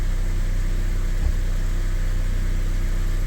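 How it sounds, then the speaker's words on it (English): The idling engine of a Mazda MX-5 Miata NC, with its clutch pedal released, produces a steady low drone and a faint continuous squeak that is hard to pick out under the engine hum. "So like right now I'm not pressing the clutch at all. You can hear that squeaking."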